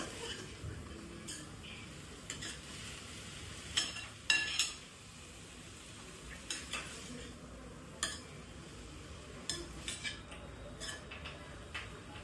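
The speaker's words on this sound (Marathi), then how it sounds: "चारी कोपऱ्यांनी ही भाजी चांगली मिक्स करून घ्यायची आहे." Konkani raan bhaji, wild leafy vegetables, being stirred and mixed in a pan, with soft scraping and occasional clinks of a spoon against the pan over a faint background sizzle.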